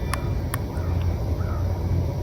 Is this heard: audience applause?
no